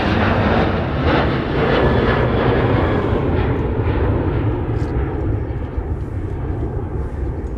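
An Air France Boeing 777 departing Minneapolis–St. Paul airport for Paris sends a loud, steady jet engine roar that slowly eases over several seconds.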